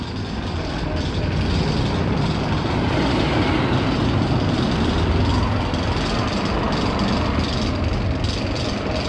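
A steady, loud rumbling roar of the Zambezi Zinger roller coaster train on its rails at Worlds of Fun, continuous throughout with faint rattling, no voices.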